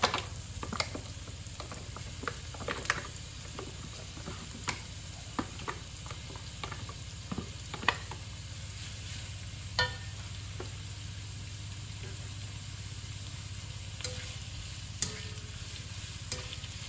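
Potatoes and other ingredients, matchstick pieces among them, sizzling as they brown in a pan, a soft steady frying hiss broken by faint stirring clicks and scrapes, with no talking.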